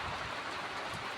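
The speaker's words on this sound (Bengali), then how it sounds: "আমাদের এদিকে তো এখন বৃষ্টি পড়ছে।" Rain falling outdoors, a continuous soft hiss of drops on surfaces, steady and fairly faint, with no voices.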